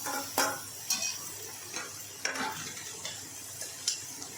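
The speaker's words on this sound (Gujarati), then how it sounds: "તેને ફૂલ ગેસ પર આપણે શેકી લઈશું ડુંગળી અને કેપ્સિકમને" Sliced onion, capsicum, carrot and cabbage stir-fry over a full flame, a faint sizzle beneath repeated spatula scrapes and taps against the pan, coming every half second or so.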